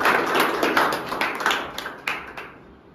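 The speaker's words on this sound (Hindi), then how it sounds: "ताली बजा दो" A small audience at a salon academy certificate ceremony claps in a brief burst of scattered hand claps that thin out and fade to silence within a few seconds.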